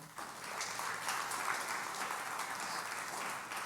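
A church congregation applauding, a sustained, fairly distant patter of many hands clapping at an even level throughout.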